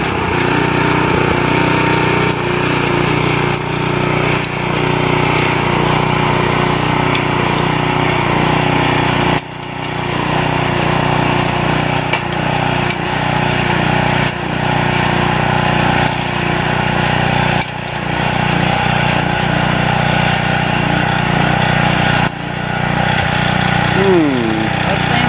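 A 6.5 horsepower gas-powered tiller engine runs loudly and steadily while tilling soil, a close, continuous rattling drone with brief dips, and people talk over it.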